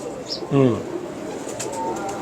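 A breeding pigeon gives a brief throaty coo close by, a short rolling burst amid a voice and quiet room noise.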